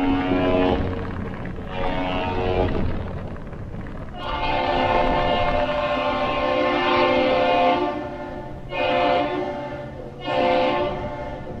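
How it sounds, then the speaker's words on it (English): The 1,004-foot freighter Mesabi Miner, leaving Duluth loaded with coal, trades whistle salutes with the lift bridge: deep, loud horn blasts, a long sustained one followed by two shorter ones, with no talking. "That one long and two short whistle exchange that you just heard between the ship and the lift bridge operators, the captain's salute."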